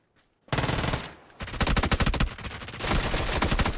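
A P90 submachine gun fires in PUBG, loud sustained automatic bursts in rapid rhythm with a brief pause before a longer volley, no talking over it.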